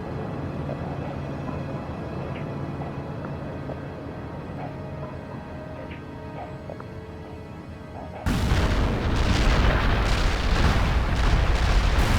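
Artillery fire for effect rains down in the World in Conflict game, a sudden heavy burst of rumbling booms and blasts that starts partway through and continues loud and dense, after a stretch of quieter low ambient drone.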